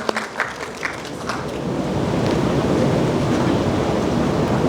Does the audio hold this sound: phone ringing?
no